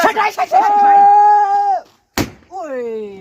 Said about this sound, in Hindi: यहाँ बैठो, इधर सारे पटाखे रखो।